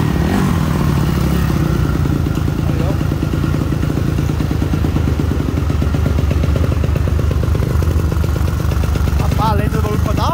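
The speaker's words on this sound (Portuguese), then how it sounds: "Olha a lenta dessa moto aqui" A motorcycle with a 67mm big-bore kit and aftermarket carburetor idles loudly and steadily up close, with a rough, uneven putter throughout and a voice talking over it.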